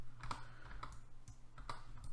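Keys on a computer keyboard tap in a sparse, irregular rhythm, quiet and close, over a low steady background hum.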